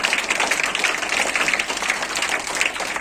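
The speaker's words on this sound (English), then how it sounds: "Please clap for the Tamil department." A school audience applauds the Tamil department at an awards function, a continuous even roll of many hands clapping at moderate distance for the full three seconds.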